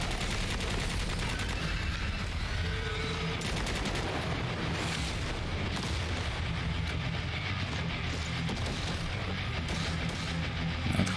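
Gunfire in the shooter game Necromunda: Hired Gun, a dense, continuous barrage of shots with heavy low rumble running steadily throughout, no voices.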